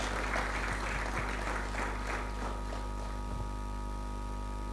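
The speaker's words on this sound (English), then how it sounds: "Please, a round of applause for Yar'Adua Foundation." Audience applause at a social inclusion accountability forum, clapping over a steady mains hum, strongest in the first few seconds and then thinning into scattered claps.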